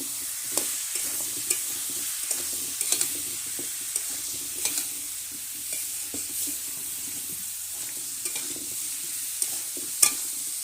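Chili and turmeric powder are stirred in a frying pan, with a soft steady sizzle beneath repeated scraping and clinking strokes of a spoon against the metal, close and fairly quiet.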